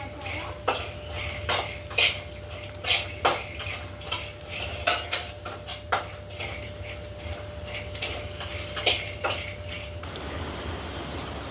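Peanuts roasting in a pan for a chutney at home: a steady run of metal clinks and scrapes from stirring, clear and close, over a low stove hum with a faint steady tone.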